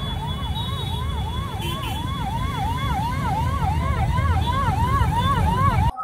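An ambulance stuck in a crowd in Balangir, Odisha, during the Chief Minister's visit sounds a loud, continuous wailing siren that rises and falls rhythmically over rumbling traffic and crowd noise, cutting off abruptly at the end.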